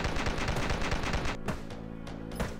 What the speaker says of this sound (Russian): Давайте расстреливать всех.